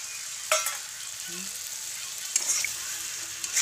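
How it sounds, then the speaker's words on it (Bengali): Masala spice paste fries in a pan with a soft continuous sizzle, punctuated by a few sharp clinks and scrapes of a stirring spoon. "তো মশলা আমি ভালোভাবে কষিয়ে নিলাম"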